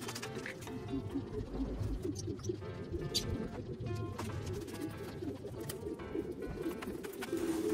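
Pigeons brought from Taiwan coo in a continuous low burbling chorus, with a few faint chirps over soft background noise and no talking.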